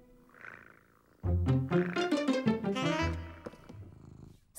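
A cartoon cat lets out a loud, rough, drawn-out purring growl that starts abruptly after a quiet moment and then fades into softer grumbles.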